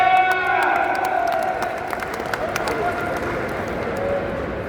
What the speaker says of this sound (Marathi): हात उंच करून टाळ्या करायच्या, टाळ्या